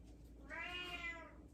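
A single drawn-out meow from an old cat, close and clear, rising and then falling over about a second against a quiet indoor background.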